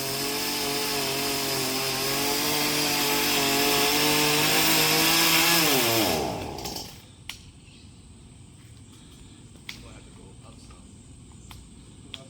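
A new Lowe's chainsaw roars loud and close as it cuts down a tree, its engine holding a steady buzzing pitch, then winding down and dropping away, leaving quiet outdoor sounds with a few faint knocks.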